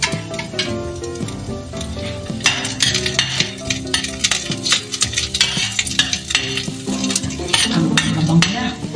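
Chopped garlic fries in a hot pan with a steady, loud sizzle. Scraping and stirring clatter runs throughout, close by.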